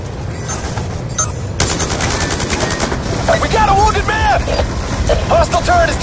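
Rapid gunfire from Call of Duty Black Ops 2 gameplay, with dense bursts of shots and explosive booms that run the whole time under game voice callouts and warbling electronic tones.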